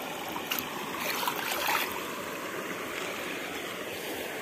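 Clear water runs steadily over a small roadside waterfall in the dry backcountry of Bahia, a continuous close rush and trickle with no voices.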